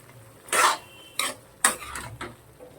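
Metal spoon scraping and clinking against a pan while pumpkin fry is stirred, several distinct knocks and scrapes spaced apart, close and fairly quiet.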